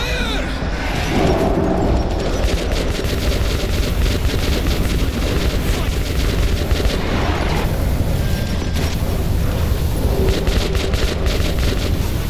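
Missiles launch and explode in the video game Metro 2033, a dense continuous roar of blasts, rumbling booms and crashing debris that stays loud throughout, with faint voices buried in the chaos.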